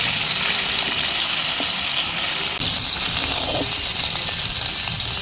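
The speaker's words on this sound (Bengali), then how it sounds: "মাছগুলো ভাজা হয়ে গেছে" Pieces of shankar fish fry in hot oil with a loud, continuous crackling sizzle that stays close and steady throughout, with no voices.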